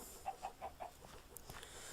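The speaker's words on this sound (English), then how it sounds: "Shut up, chickens." Chickens in a video game adventure map cluck in a quick run of four sharp, evenly spaced notes, followed by a few softer clucks, close and fairly quiet.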